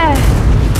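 Weapon fire in the game ARK rings out as one heavy booming blast with a ringing, falling tail, close and loud.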